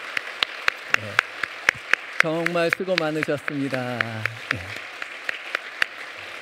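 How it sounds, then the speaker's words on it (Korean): A church congregation applauds in thanks, with scattered sharp claps running throughout while someone speaks clearly over them near the middle. "큰 박수로 축복하며 감사의 표현을 하겠습니다"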